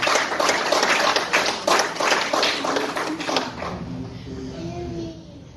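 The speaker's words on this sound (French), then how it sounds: "vous méritez des acclamations et des applaudissements" An audience at a church celebration for a pastor's 31 years of ministry claps in a dense, steady crowd applause that gradually thins and fades, with voices mixed in.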